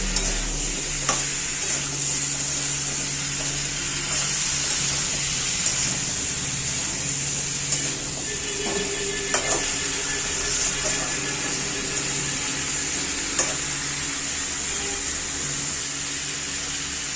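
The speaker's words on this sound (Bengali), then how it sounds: "আলু কুমড়োটা ভালো করে কষিয়ে নিতে হবে" Potato and pumpkin chunks stir-fried with spices in hot oil, giving a steady loud sizzle throughout with occasional scrapes and clinks of the spatula against the pan.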